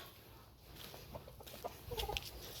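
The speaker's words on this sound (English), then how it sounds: "Good morning, Rooster Rooster." A rooster gives a few soft clucks, faint and brief near the end, against a quiet outdoor background on a backyard chicken keeper's morning round.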